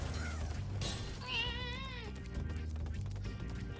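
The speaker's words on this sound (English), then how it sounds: "he meowed at me, so I meowed back at him." A whiny house cat meows indoors, with one drawn-out, wavering meow standing out in the middle over low background hum and faint noises.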